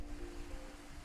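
Loud rushing water from a river by a village due for flooding under a dam, a steady broadband roar that fills the whole moment, close and unbroken, with no voices heard.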